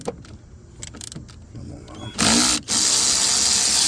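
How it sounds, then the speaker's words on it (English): An electric ratchet spins briefly and loudly to loosen a 10 mm battery terminal bolt on a 2009 Chevy Equinox 3.4 liter, a short whirring burst after quieter clicks and handling noises. "Little 10 millimeter with my electric ratchet here."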